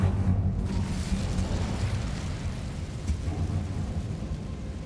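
Incendio fire spell cast in the video game Hogwarts Legacy, a deep rumbling whoosh of flame bursting up at once and then holding as a low, roaring burn for a few seconds.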